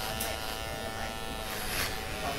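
An electric clipper buzzes steadily as a barber shaves hair off during a fade cut, a constant close hum running the whole time with slight swells, and a voice speaks over it.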